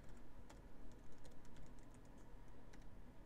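Quick, irregular keystrokes rattle on a computer keyboard while entering map settings for a zombies game map, soft, close and alone with no talking.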